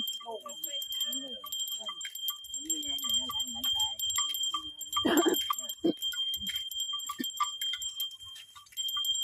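Steady jingling of a bell hung on a walking animal runs throughout, close and bright, while people talk over it nearby.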